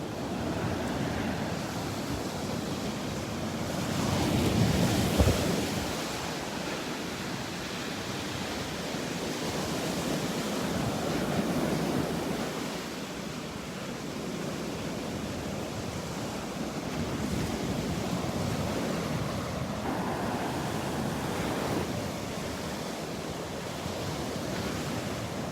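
Ocean waves washing onto a beach in North Naples, Florida, a broad steady surf roar with gentle swells and some wind, no voices.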